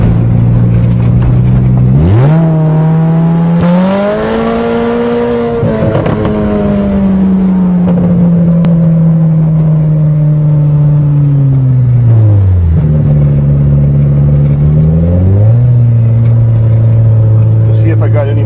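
A cold-engined Toyota GTS revs and accelerates hard, its loud engine note sweeping up sharply, holding, then dropping and climbing again through several throttle changes, with occasional voices over it.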